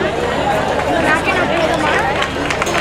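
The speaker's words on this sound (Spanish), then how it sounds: "Vamos a recibir con un fuerte aplauso a la Asociación Andudanza, Aduandanza, de Ana María Torralbo." Applause from a festival audience greeting a choir-dance group at a Malagueñas celebration, a dense, steady roar of clapping and crowd noise that stays loud and continuous throughout.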